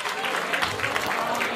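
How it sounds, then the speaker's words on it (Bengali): An audience at a golden jubilee event applauds, a dense, steady wash of clapping from many hands that fills the moment without a break, heard close. "সত্যি করে বললে আমাদের সকলের হাতে একবার জোরে হাততালি"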